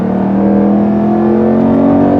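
A Dodge Durango SRT 392 seven-passenger SUV engine revs hard under acceleration, a loud, steady droning growl that holds its pitch without any voices.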